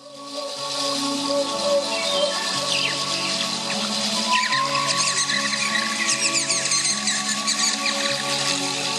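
A wind instrument imitates an owl call within Andean-style folk music played at a seaside promenade, sounding as sustained whistling tones and chirpy trills over layered continuous accompaniment, loud and steady throughout.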